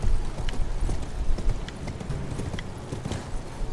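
Horse hooves clip-clop steadily in Elden Ring, a fairly loud, continuous trotting rhythm over a low rumbling game backdrop, with no talk.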